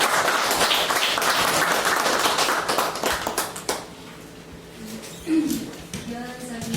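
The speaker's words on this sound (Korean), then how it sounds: "박수로 맞아주시기 바랍니다" Audience applause at a memorial academic conference greets a speaker, a burst of dense clapping that fades after a few seconds into scattered claps and a voice speaking.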